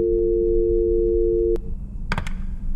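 A steady electronic telephone busy tone drones in a horror video game, then cuts off abruptly, followed by a few short clicks against low background hum.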